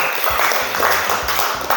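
Classroom of pupils applauding together after a lesson, a dense steady patter of many small hands clapping at close range for a couple of seconds, with faint voices mixed in.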